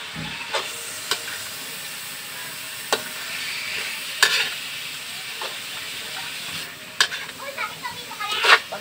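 Hotdog-style food sizzling and frying in a pan while being stirred, with a steady hiss under occasional sharp scrapes and clinks of the utensil against the pan, close by.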